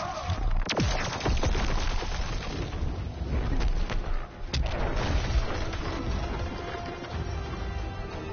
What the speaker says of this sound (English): Here I give you a scenic tour of Kandar. It involves explosions.